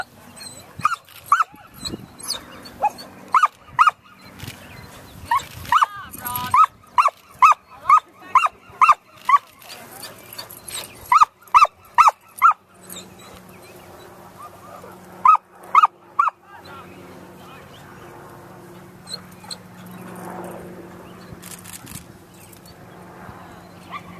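A Samoyed working sheep gives repeated sharp barks in uneven bursts, with whimpers and quieter stretches between, set against outdoor ambience and occasional faint human voices.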